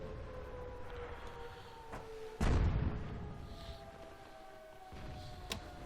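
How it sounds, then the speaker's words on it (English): A single heavy artillery shot from a British FV304 self-propelled gun in World of Tanks booms out once, mid-clip, over a low steady hum of game ambience, its rumble decaying over a second or so. "I'm going to take a random shot."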